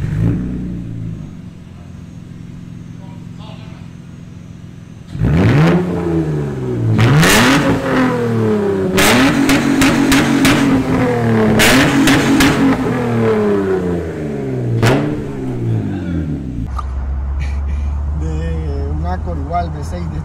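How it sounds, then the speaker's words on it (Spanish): A 2003 Honda Accord coupe with a manual gearbox and a V6 on straight-pipe exhaust, no extra resonators, revs hard several times in quick succession, close and loud, its rising and falling engine pitch repeating before settling back to idle. "V6 y tubería directa y se escucha fino, fino, fino. Nada de resonadores adicionales"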